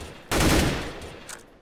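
A single sniper rifle shot from a CS:GO competitive match cracks out loud and close, then trails into a short fading echo with a faint second report near the end.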